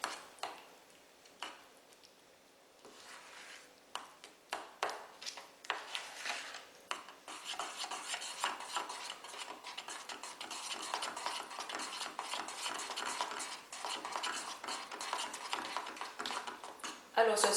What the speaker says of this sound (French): Donc, je vais venir remuer tout ça.